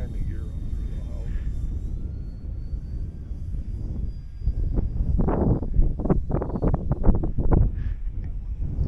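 Radio-controlled model airplane, an EC1500 and a Harrier mentioned, flying at a model airfield: a steady whining engine drone with wind buffeting throughout, while people talk nearby in the second half.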